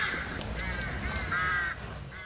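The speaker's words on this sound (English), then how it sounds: "You can hear birds and farm animals, an eerie peace among the war-shattered reality." Crows caw repeatedly in the quiet countryside outside Kyiv after shelling, several harsh calls at moderate distance over a low, still background.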